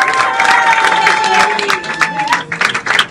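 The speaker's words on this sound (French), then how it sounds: "Acclamons, acclamons, acclamons." Guests at a church wedding ceremony break into applause and cheering, a dense crowd of clapping and shouts that swells and then trails into scattered claps, with voices mixed in.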